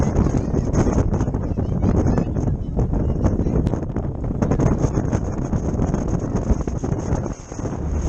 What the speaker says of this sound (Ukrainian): Ось яка мощь, сила моторів.